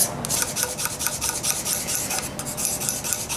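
Curved card scraper working around an oak chisel handle on a Japanese trowel chisel, a close, loud rasping scrape repeated in quick rhythmic strokes.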